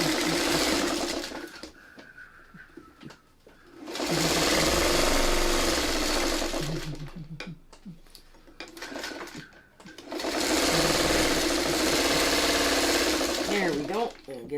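A sewing machine stitching quilt block seams for a spinning star pattern, two long loud runs of fast, steady whirring with a pause between where a person speaks and handles the fabric nearby.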